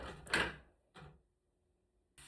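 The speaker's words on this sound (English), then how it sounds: "Just like that, our door handles are being installed." Door knob hardware being fitted, with a loud clack and rattle of metal parts, a shorter knock about a second later, then a final sharp click after a pause; close and alone, no talking.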